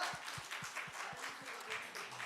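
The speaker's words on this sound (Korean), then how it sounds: "박수 한번 주시죠." Applause from a congregation at a church youth worship service, a steady patter of many hands clapping at moderate level, with voices underneath.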